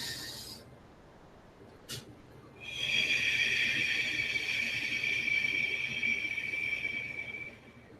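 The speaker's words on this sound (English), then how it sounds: "That's the inhale, taking the prana energy into our body." A slow, deep breath drawn in and let out during a breathing demonstration at a healing session, starting with a brief sharp intake, then a long steady airy rush of air that holds for several seconds before fading, close and alone.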